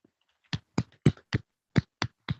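A small class claps for a student in sparse, separate hand claps, about seven distinct slaps spaced unevenly, fairly close and quiet, with no talking.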